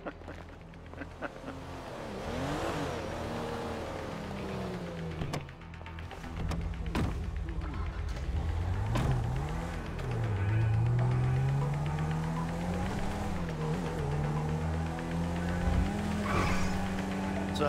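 A car is driven in the video game GTA 5, its engine droning loudly and continuously with rising and falling revs, tire squeals and occasional thuds, with a voice speaking briefly over it.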